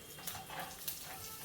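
Chopped vegetables such as beans, carrot, capsicum and peas tossed into a pan of frying vermicelli upma, giving a steady close sizzle with a couple of brief stirring scrapes.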